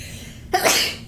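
A single sharp sneeze bursts out partway through, close and fairly loud, after a quiet room tone with no talking.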